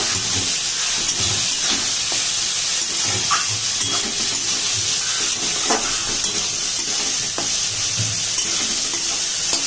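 Vegetables lightly frying in a pan without added liquid, a loud, steady close-up sizzle and hiss with intermittent stirring scrapes and soft knocks throughout.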